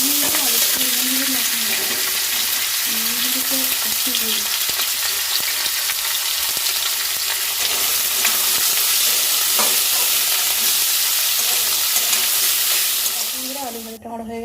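Potatoes frying in a pan, a loud continuous sizzle with repeated stirring scrapes close up, fading briefly near the end.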